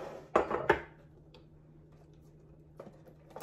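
Cake batter is being mixed in a bowl for a poop-themed cake, giving two sharp, close clinks of a utensil against the bowl followed by quieter scraping taps.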